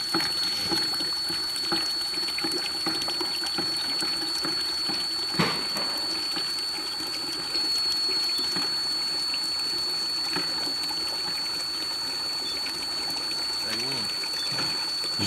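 Water pouring steadily into thick DAF sludge slurry to thin it, a continuous splashing flow under a faint high tonal whine, lasting the whole stretch.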